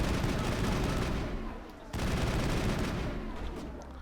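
Sniper rifle fire in the sci-fi shooter Mass Effect, a dense, continuous roar of gunfire with a brief dip before resuming at full loudness, heard alone.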